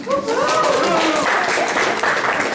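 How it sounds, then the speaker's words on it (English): A lecture audience breaks into a round of applause, with the speaker's voice continuing over the clapping at first before the hands carry on more steadily beneath it. "yes, it does deserve a round of applause"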